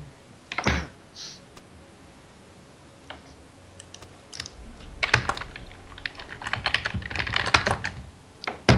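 Fast typing on a computer keyboard during a League of Legends session, with close, sharp key clicks that come in scattered bursts and grow denser and louder toward the end, with no talk over them.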